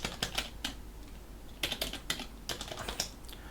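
Quick bursts of typing on a computer keyboard, close and fairly quiet, arrive in short irregular runs of clicky keystrokes separated by brief pauses.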